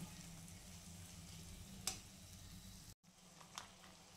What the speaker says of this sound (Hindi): और इसे हम चलाते हुए मिक्स कर देंगे।